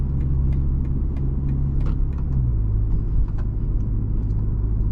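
A 2023 BMW M235i Gran Coupé driving in sport mode gives a steady, close engine drone and road rumble, with a slight shift in engine note partway through and no talking.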